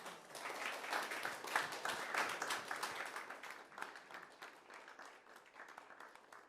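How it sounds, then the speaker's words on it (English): Audience applause at a FinTech Wales accelerator demo day as startups stand on stage, a dense crowd of clapping that starts strong and slowly thins and fades over several seconds. "give them a round of applause"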